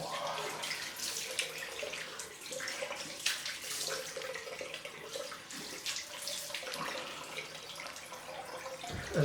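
Tap water runs steadily into a sink for a cold rinse after a head shave, a continuous close splashing hiss lasting throughout with small fluctuations and no talking.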